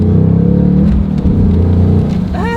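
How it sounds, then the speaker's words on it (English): Ford Mustang Mach 1 engine droning loudly and steadily during a speed shift attempt, with a short rising whine near the end as the revs climb. "Let's try this speed shift, shall we?"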